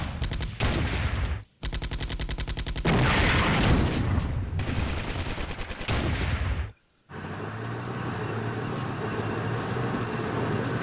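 Bursts of artillery fire and bombing from the Cold War tank strategy game Flashpoint Campaigns: Red Storm, loud rapid gunfire volleys broken by brief silences, then a sustained rumbling barrage.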